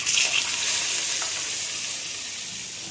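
Hot reused frying oil, still holding leftover bits from fried pakoras, sizzles loudly and steadily in a pan, a dense continuous crackle close up with no talking.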